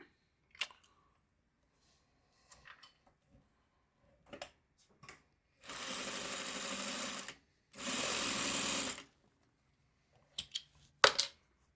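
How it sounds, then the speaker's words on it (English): Sewing machine stitching fabric during a quilting-style seam, two loud steady bursts of stitching about two seconds each, separated by a short pause, with scattered small clicks and handling noises before and after. "okay, so now I can sew this one."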